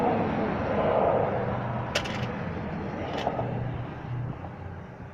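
A car drives along with a steady, muffled interior rumble of engine and road noise, a couple of brief clicks and faint voices.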